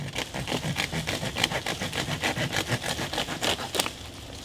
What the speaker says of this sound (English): I do want to go ahead and check the saw back on this. See if it does any good.